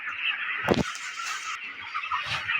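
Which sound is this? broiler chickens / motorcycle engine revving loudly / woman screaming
broiler chickens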